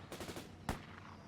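Machine gun fire in the World in Conflict war game: a rapid burst of shots, then a single heavier crack with a short fading tail, close and fairly loud, with no voices.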